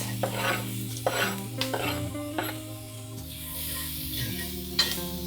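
Onions, garlic and celery cooking in a pot while being stirred: a low continuous sizzle with repeated scraping spoon strokes every half second or so, close up, over a faint steady background hum and no voices.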